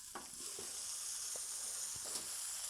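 Sausages and peppers sizzle on a hot griddle, a steady close frying hiss running throughout with a few brief pops and scrapes of stirring.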